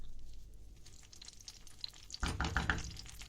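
Garlic and tomato sauce sautéing in oil in a pan, starting as a quiet, faint sizzle, then bursting into louder, crackling frying with stirring scrapes.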